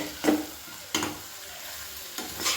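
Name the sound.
vangi bath masala frying in oil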